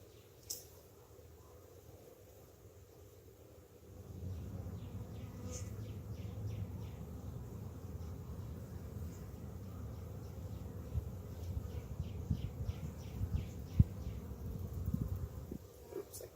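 A steady, low drone of honeybees in an opened hive swells up after a quiet start and continues at close range, with faint rustling and small knocks mixed in.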